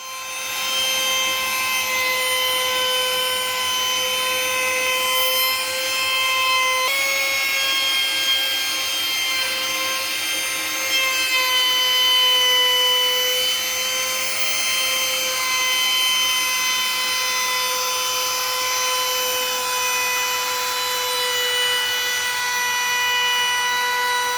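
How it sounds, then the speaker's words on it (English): A router fitted with a 1/8 inch round-over bit runs along wood edges, a loud, steady high-pitched motor whine that holds for over twenty seconds with slight shifts in pitch as the cut changes. "I rounded all the edges using 8th inch round over bit"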